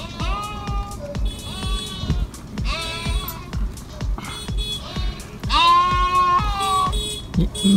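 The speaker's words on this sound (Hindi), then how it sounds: "सींग वाली बकरी" A horned goat in a village bleats repeatedly and loudly, close by, in wavering, nasal cries. A steady low thumping rhythm runs underneath.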